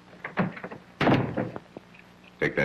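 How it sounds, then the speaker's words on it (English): Door being shut with a solid thunk in an old television movie, followed by scattered bumps and a tap. "Shut the door."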